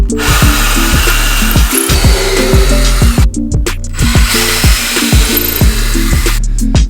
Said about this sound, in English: The drill battery is dying